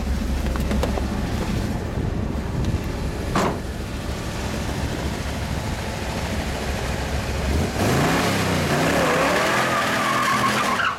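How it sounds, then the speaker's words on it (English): A 1971 Hemi Plymouth Cuda convertible holds a steady loud roar through a burnout, tires squealing and skidding as the engine note swings and climbs near the end. "Let me hop out for one quick burnout."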